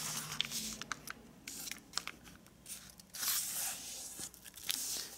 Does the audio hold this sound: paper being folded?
yes